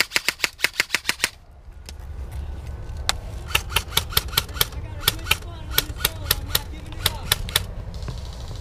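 Rapid gunfire aimed at a bush line in a hostage extraction drill, bursts of sharp loud shots in quick strings with short pauses, a low engine rumble beneath.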